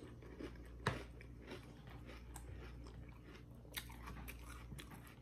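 Close, quiet crunching and chewing of breakfast cereal, steady bites through the whole stretch with one sharper crunch near the start and no talking.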